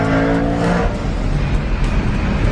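A supercharged BMW M3 pulls hard in second gear, its engine roaring loudly and steadily from inside the car before a gear change, with no talk over it.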